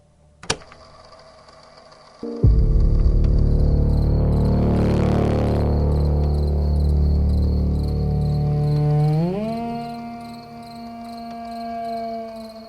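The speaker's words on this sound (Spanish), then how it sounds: "Al principio solo sonaba la noche. Grillos, madera, algún golpe lejano" A tape recorder in a storage room plays back a night recording, with a click and a thump before crickets take over in a loud, steady, continuous chirping that goes on alone.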